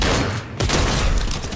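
A quick, loud volley of gunfire erupts in a Fortnite match, a brief, dense burst of rapid shots with a sharp crack near the middle.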